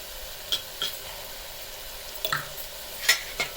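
Ginger garlic paste fries in a pan with a soft steady sizzle, while a spoon stirs and scrapes at it in a few short clinks. No one speaks.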